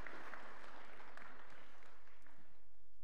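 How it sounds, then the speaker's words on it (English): A church congregation claps together in a soft, fairly distant burst of applause that lasts about three seconds and fades toward the end, with no voices on top. "Give the guys a round of applause as they go sit down."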